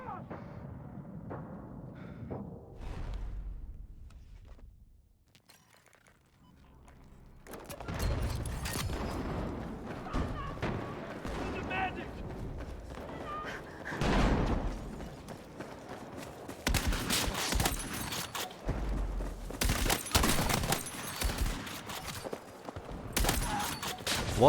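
Gunfire in a Battlefield multiplayer match, with repeated bursts of shots and clattering action sounds that come and go, growing busier and louder in the second half, alongside footsteps and movement noise.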